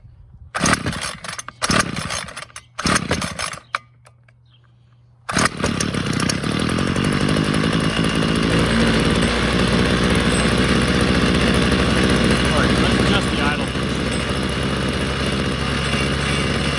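A Ryobi CS26 string trimmer with a stalling, bogging fault is started by hand: several short sputtering bursts, a brief pause, then the small two-stroke engine catches and runs loud and steady close by.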